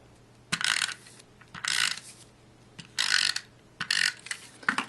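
Tape pulled in several quick bursts from a tape dispenser while making a triple layer card, four or five close, loud ripping strokes separated by short pauses.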